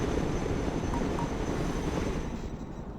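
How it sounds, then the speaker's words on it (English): A cargo helicopter flies in the real-time strategy game Broken Arrow, a dense, steady rotor-and-engine rumble with a faint whine, loud and continuous, easing slightly toward the end with no voices. "Let's go and recover it with our helicopter."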